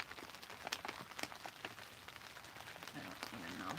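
Rain falling on a Cinch tent, a close, dense patter of drops striking the fabric throughout, with faint voices underneath.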